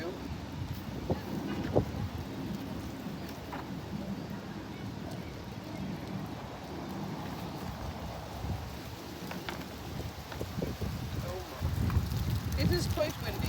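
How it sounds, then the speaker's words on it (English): Strong wind buffets the microphone outdoors in Plymouth, a continuous low roaring rumble with gusts that swell near the end, while a woman reads aloud faintly beneath it. "It is quite windy, and I do apologize."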